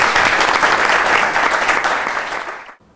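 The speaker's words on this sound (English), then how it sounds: "Let's have a round of applause for our speakers." Audience at a political talk event applauding the speakers, a short burst of dense, loud clapping that tapers off and stops abruptly after about three seconds.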